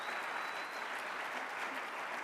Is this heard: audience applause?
yes